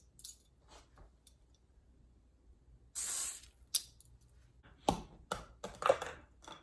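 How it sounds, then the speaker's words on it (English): A short hissing burst of cooking spray into a cupcake tin, close and steady for a moment, surrounded by light clicks, clatters and handling noises. "I'm gonna start by spraying this."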